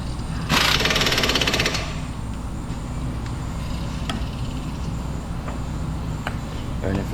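A loud burst of rapid mechanical hammering from an impact wrench with a 19 mm swivel socket tightening vehicle bolts lasts about a second, then a low rumbling workshop background with a few faint clicks.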